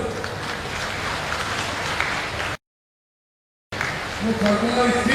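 An outdoor crowd at a political rally in Kumedi, Indore claps in a dense, even patter, cut off by a brief silent gap before the applause resumes with a voice speaking over it.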